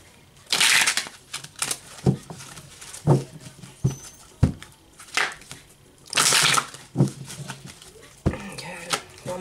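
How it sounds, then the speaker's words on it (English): A deck of tarot cards being shuffled close by: two loud riffling bursts stand out among softer slides, taps and rustles, with quiet pauses between them. "Oh, my shuffling is a mess."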